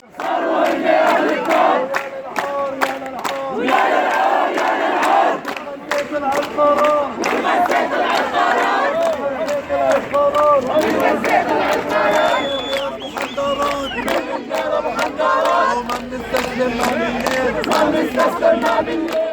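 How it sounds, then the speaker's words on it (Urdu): A large protest crowd chants slogans against Israel loudly and rhythmically in unison, voices rising and falling continuously throughout. "اس موقع پر اسرائیلی ظلم اور جارحیت کے خلاف نعرے بازی بھی کی گئی"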